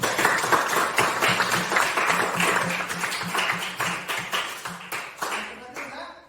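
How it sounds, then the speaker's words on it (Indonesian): A classroom of students claps together in a loud, quick rhythm that slows toward the end and fades off. Some voices mix in with the clapping. "Bisa tepuk tangan dulu semua."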